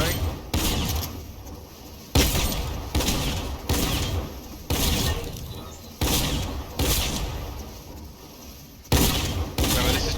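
Hip-fired shotgun blasts in Fortnite ring out about every second, each loud, booming shot decaying before the next, up close over faint background game sound.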